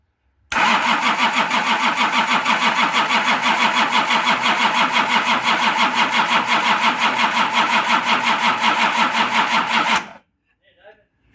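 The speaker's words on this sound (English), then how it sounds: "I'm going to go and crank this and see if I can get fuel coming to those injectors now" A Nissan LD28 diesel engine that has sat unused for years cranks continuously for about nine and a half seconds with a loud, rhythmic churning pulse, then stops abruptly into near silence.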